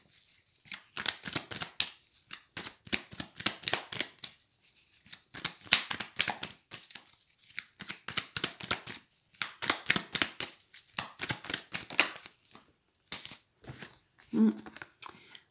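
Playing cards shuffled for a love tarot reading, a long run of quick crisp riffling bursts in close succession, fairly soft and near, with brief pauses between rounds.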